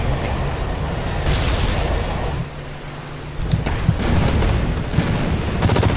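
Enemy gunfire in the video game Hazard Ops, a dense rumble of booms and shots that eases for a moment, then returns with sharper cracks near the end.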